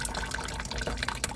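A water vending machine releases water during its cleaning cycle, giving a continuous close splashing, trickling flow with scattered drips and no pauses.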